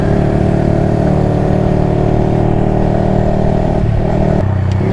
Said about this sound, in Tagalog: Nakakamiss magmotor, magdekambyo.